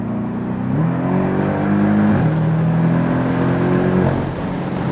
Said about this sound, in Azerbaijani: Pillələri keçirəndəki səsi çox dəlidir.